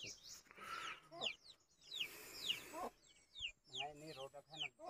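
Chickens cluck and call at close range on a rural farm, short sharp bursts repeating through the moment while people talk nearby.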